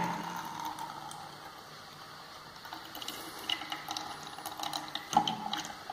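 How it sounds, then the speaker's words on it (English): Purified water flows out of a homemade charcoal and sand filter, giving a steady, soft trickling wash with light patter, slightly busier and splashier toward the end, with no voices. "pure water is coming."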